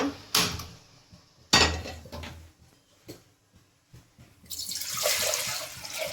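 Water is poured into a cooking pot for boiling cassava. Sharp knocks and clatters of the pot come first, then a steady, close splashing pour rushes in and continues to the end.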